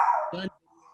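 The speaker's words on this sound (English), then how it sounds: "That's my dog. My dog approves of your message." One sharp, close dog bark lands in the middle of a short pause, loud and brief, with a faint voice heard before it.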